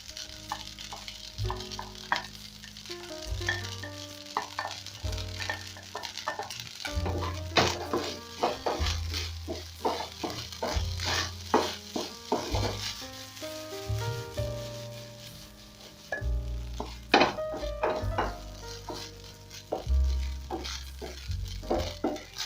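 Eggs stir-fried with leftover rice in a pan for Chinese fried rice, sizzling throughout under repeated clanks and scrapes of a spatula on metal and uneven stirring, with no talk.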